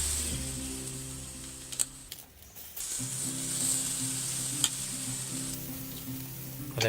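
Stuffed leg of lamb sizzling on a charcoal barbecue above sweet potatoes set between the charcoal baskets, a steady close hiss with low hum, briefly dipping midway, with no voices.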